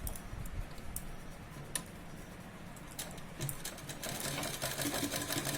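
A sewing machine stitches a nighty at home, giving a faint, steady mechanical whir with light ticking, quiet and without talk.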